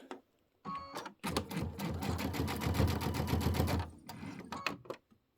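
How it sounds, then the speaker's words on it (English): Sewing machine stitching pieced fabric for a Kimberbell Let It Snow pillow top: a short burst, then a steady fast mechanical whir with rhythmic needle clatter for a few seconds, and a few slower stitches at the end, close and alone. "Let's sew right here first."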